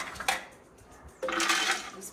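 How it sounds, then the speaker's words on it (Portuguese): About 100 grams of cashew nuts pour into a blender jar with a dense, rattling clatter, after an earlier brief clink of kitchenware, close up in a kitchen. "Despeja aqui a castanha"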